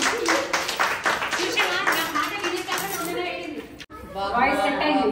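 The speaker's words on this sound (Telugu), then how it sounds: "డబుల్ క్లాప్స్ కొట్టండి ఎవరికి." A group of people at a home kitty party clap in quick repeated bursts during a party game, with voices chattering over and after the claps.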